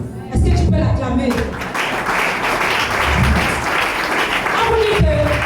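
A church congregation at a sermon applauding, with steady clapping and crowd noise under a preacher's speech, close and loud.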